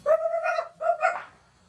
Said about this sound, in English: The dog saw the lady and started to bark.